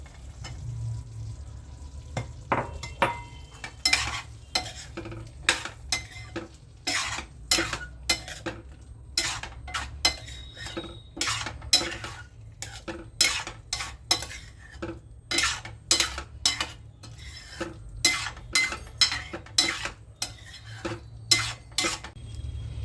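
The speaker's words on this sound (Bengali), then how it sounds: "দেখি কি এবার আলুর দমগুলো গ্রেভির মধ্যে দিয়ে দেবো" A metal spoon stirs potatoes into gravy for aloo dum in a pot, with quick, irregular clinks and scrapes that repeat close up against a low simmering hiss.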